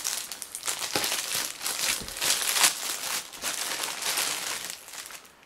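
Packaged children's summer costume being unwrapped from its plastic bag, with loud, continuous crinkling and rustling of thin film close up, steady for several seconds with no talk.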